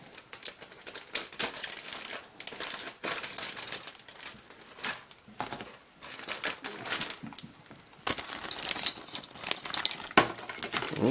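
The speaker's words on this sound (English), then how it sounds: "Next up we have 2 bags of plastic parts." Two plastic bags of parts from an AMT 1/25 scale 1963 Impala model car kit crinkling and rustling in close handling, with irregular bursts of crackle and brief taps throughout.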